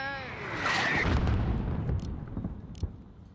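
Incoming mortar fire in Call of Duty Modern Warfare: a heavy low rumbling boom swelling and fading over a few seconds, with sharper distant impacts after, under a voice speaking.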